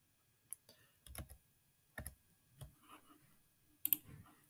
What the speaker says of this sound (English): I'm going to go ahead and click right there